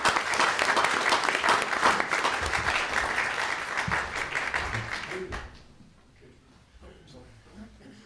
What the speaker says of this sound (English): let's give our TSA a round of applause